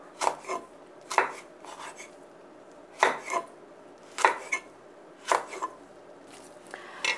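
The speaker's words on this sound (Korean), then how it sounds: "파는 이렇게 어슷어슷 썰어주세요" A knife slices green onion and red chili on a cutting board for a braised mackerel and radish dish, making crisp, well-separated chops in a loose rhythm, close and clear with no talking.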